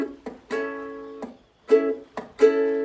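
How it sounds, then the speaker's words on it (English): Ukulele strummed in a steady down-down-down-down pattern, four bright chord strums close up, each cut short by fingers tapping the strings to leave brief muted gaps between them, played alone. "Now what I'm doing is I'm just tapping my fingers on the strings to have that little bit of a gap in between."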